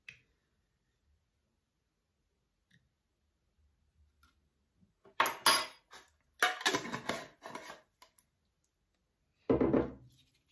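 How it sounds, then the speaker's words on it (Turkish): A spoon stirs baking soda into acrylic paint in a small container, giving a few short bursts of clicking, scraping clatter separated by long stretches of near silence. "Şimdi karbonatla karıştıracağım."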